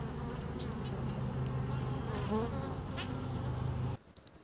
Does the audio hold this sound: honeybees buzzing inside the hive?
yes